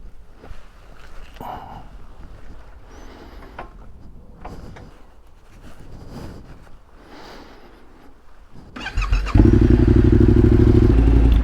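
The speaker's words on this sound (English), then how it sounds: "I know I've just started the bike up" Some clattering and shuffling, then a 2021 Yamaha Tenere 700 motorcycle with a straight-through exhaust fires up and idles loudly with a deep, throaty exhaust rumble.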